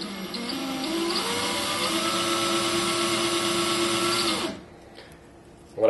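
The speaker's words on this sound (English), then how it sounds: "mount the axle into the chuck of an electric drill. You can then get some sandpaper" An electric drill spins a Pinewood Derby car axle wrapped in a strip of sandpaper, a steady close whine with a faint rising pitch, then it stops abruptly and winds down into near silence before a brief final noise.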